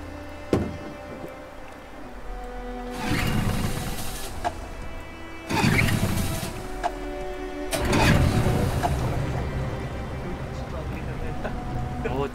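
In Detroit: Become Human, a boat engine rumbles to life out on open water, swelling in a few loud surges over a low drone while characters talk.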